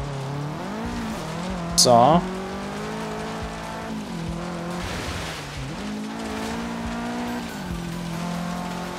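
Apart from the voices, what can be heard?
car driving in video game Forza Horizon 3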